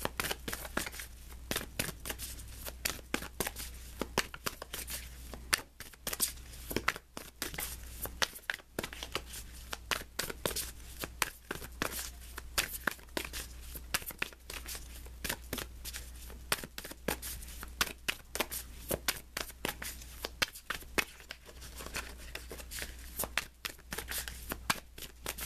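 Tarot cards shuffled continuously for a reading, a dense run of crisp riffling and flicking bursts throughout, close and fairly quiet, with no talking.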